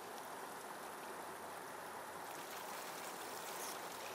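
Water from pumps pours steadily into a KEENE Mini Max gold mining sluice highbanker concentrator, a constant hissing, rushing flow, close and even, with no talk.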